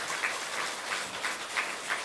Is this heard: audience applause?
yes